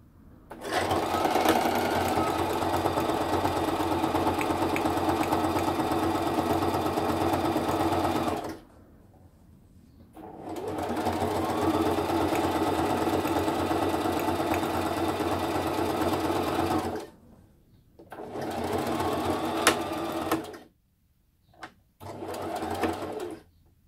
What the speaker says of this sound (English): For those of you that aren't used to using sewing machines, you always turn a corner with the needle down.